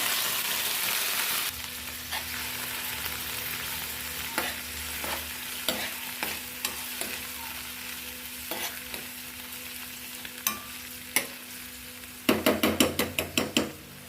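Onion and beetroot sizzle in hot oil with mustard seeds, a steady close frying hiss broken by a spoon scraping and stirring the pan, ending in a quick run of sharp clanks against the pot.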